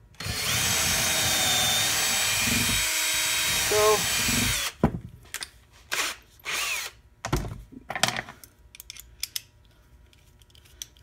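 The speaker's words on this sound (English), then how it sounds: "Just make a little mark and pre-drill through." A power drill pre-drills through pallet wood, whining loudly and continuously for several seconds before stopping, followed by clicks and handling knocks while a person speaks briefly.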